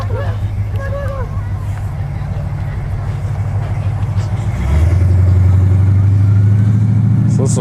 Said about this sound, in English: So this is a 454 with a big ass blower on top.